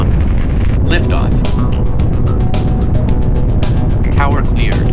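A Black Arrow rocket engine lifting off in the video game Space Agency: a loud, steady roar that fills the whole clip, with a voice talking over it.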